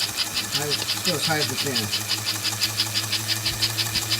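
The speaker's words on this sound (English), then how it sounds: "bottom line is it cycles and the engine clearly runs" A train engine runs during maintenance testing, a steady rhythmic diesel knock and hum with regular pulsing throughout. A person speaks briefly near the start over the running engine.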